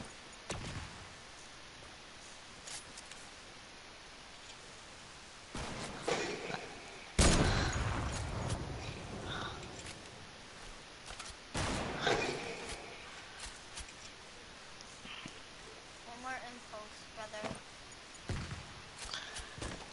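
Short rapid bursts from a light machine gun in a video game, two loud volleys a few seconds apart, then quieter scattered shots and background game noise.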